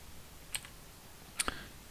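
Keystrokes on a computer keyboard while entering text during a Linux Mint 20.2 install: a single click, a pause, then a quick pair of taps, fairly quiet against a faint background.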